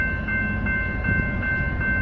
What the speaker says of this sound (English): I think I see my favorite locomotive right there.